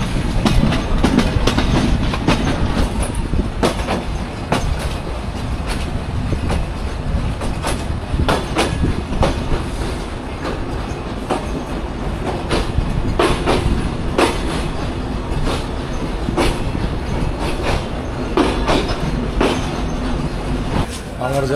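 The Shimanto Express train runs toward Khulna with a loud, continuous rumble and rhythmic clickety-clack of wheels on rail joints, heard from aboard, with occasional faint voices in the background.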